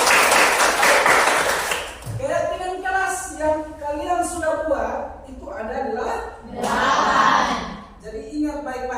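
Classroom of schoolchildren clapping their hands together, a dense burst of applause in the first two seconds and another swell near the end, with a voice and lively chatter in between.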